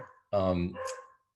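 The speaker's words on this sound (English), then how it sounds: "Sorry about the barking dog." A dog gives a single close, sharp bark in an otherwise quiet indoor setting.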